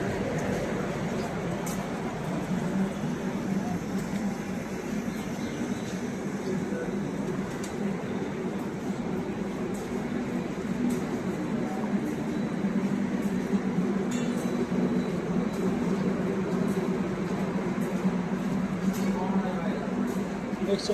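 Ambience on platform number 2 of an Indian railway station on the way to Purulia, with a steady rumble of rail traffic, occasional metallic clinks and background voices of people talking throughout.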